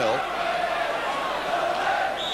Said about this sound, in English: the Luton crowd, as you can hear at home, have certainly got behind their team now